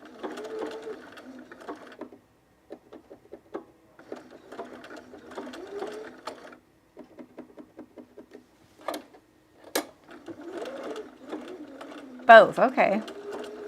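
Cover stitch sewing machine running in short bursts of stitching on underwear elastic, with skipped stitches, separated by pauses and a few clicks, while a person talks nearby.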